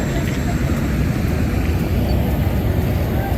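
Steady broadband rumble of an airplane cabin in flight, a loud continuous engine and airflow drone filling the low end with no breaks.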